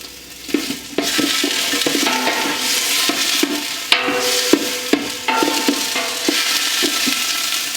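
Pork fat rendering into lard in a pot on a gas range, stirred steadily, with continuous frying sizzle and repeated scraping and clinking of the utensil against the pot, close and fairly loud.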